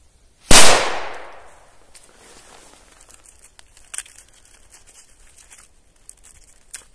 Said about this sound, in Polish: odpalimy sobie pierwszą petardkę